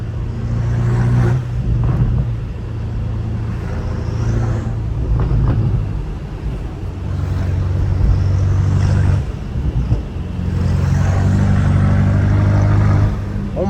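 A twin-turbo BMW M5 Competition revs in a neighbourhood with a deep rumbling exhaust, surging in several pulses with short breathy whooshes between them as it blows off, under wind buffeting.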